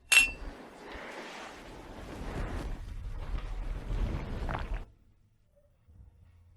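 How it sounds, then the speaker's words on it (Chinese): Wine glasses clink together in a toast: one bright, sharp chink at the start, followed by a few seconds of muffled clatter and movement before the sound falls quiet. "干杯！"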